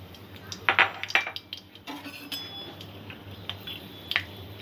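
Cloves, cardamom and cinnamon are stirred in a cooking pot: a few sharp metallic clinks and scrapes of a spoon against metal, close and moderately loud, over a steady low hum.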